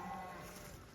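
Cattle gathered beneath an oak tree where acorns lie scattered on the ground, giving a brief, steady livestock sound that holds for about a second with no talking.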